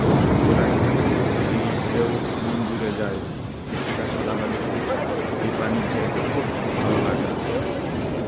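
Ship crossing the sea toward St. Martin's Island near Cox's Bazar and Teknaf, Bangladesh, with steady wind, waves and engine wash filling the scene throughout, under continuous talk from people aboard.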